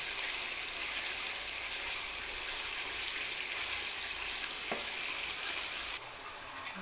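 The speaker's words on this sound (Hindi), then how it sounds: "अब हमने इसमें घी डाल के इसको अच्छी तरह भूनते हैं ताकि ये प्याज वगैरह हर चीज़ इसमें मिक्स हो जाए" Onions and spices fry in ghee for a Lahori daal gosht, a steady close sizzling hiss that holds evenly throughout with no voices.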